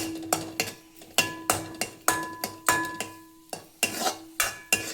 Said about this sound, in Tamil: எல்லாம் இந்த பெருங்காயத்தை பொரிய விட போகிறோம்